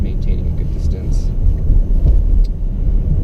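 A 2018 Volkswagen Atlas creeps through stop-start traffic. A low, steady road and engine rumble sits close under the cabin, with no talk during this stretch.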